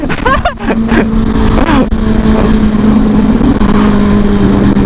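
Honda Forza 350 2021 scooter engine revving hard while riding fast, a close, loud rising whine settling into a steady drone with wind noise.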